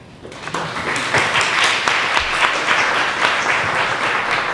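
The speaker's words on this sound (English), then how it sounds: "I'll take a round of applause" After a community issues panel session, a room audience gives a round of applause that starts quickly and holds as a steady, close, full clapping sound.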